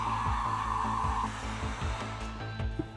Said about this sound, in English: Let's take a heat gun